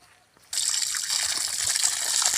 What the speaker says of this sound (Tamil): தண்ணியோட அவுட்லெட் பார்க்கலாண்ணா